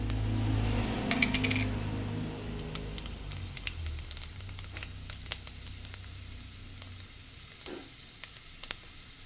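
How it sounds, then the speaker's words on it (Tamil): Mustard seeds spluttering in hot oil in a pan for a greens stir-fry: a bed of sizzling broken by sharp, scattered pops and crackles, close and fairly loud. "கடுகு பொரிஞ்சாச்சு"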